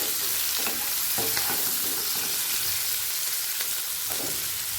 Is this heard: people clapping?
no